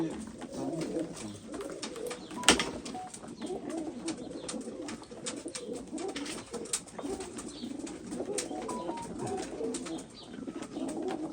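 Pigeons coo steadily inside a coop in Derik, Mardin, many overlapping soft calls forming a continuous murmur, with occasional wing flutters and one louder knock, close and moderately loud throughout.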